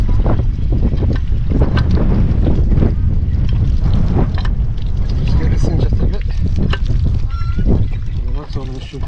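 Wind gusting at a seaside caravan site, a steady loud roar and buffeting against the microphone with scattered knocks and flutters throughout, while a person talks over it.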